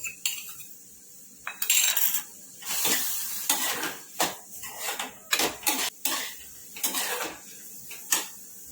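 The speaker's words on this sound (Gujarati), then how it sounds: "બટર મેલ્ટ થઈ ગયું એટલે ડુંગળી એડ કરીશું આપણે અહીંયા થોડી ડુંગળી આપણે શેકા દઈશું" Onion roasting in melted butter in a pan, with repeated clinks and scrapes of a utensil against the metal over a soft, steady sizzle and no talking.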